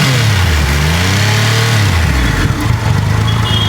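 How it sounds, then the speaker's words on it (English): A 2021 Triumph Rocket 3 GT motorcycle engine revs loudly up close, the pitch climbing and falling as the throttle opens, then settling into a rough idle. "So that's how the engine will rev and shoot a sound."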